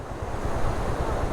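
Water rushing through a built channel beside the Ghizer river, a steady broadband roar that stays close and loud throughout with no voices.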